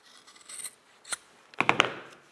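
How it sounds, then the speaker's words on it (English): Big scissors snipping through the edge of a sheepskin shoe insert, a few short crisp cuts close by, with a soft rubbing rustle before them and a quick cluster of three snips near the end, no voices. "So you can cut them with big scissors"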